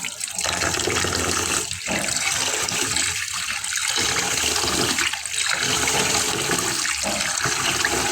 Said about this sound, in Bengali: তো আমি এটাকে আরও ধুয়ে নেব কয়েকবার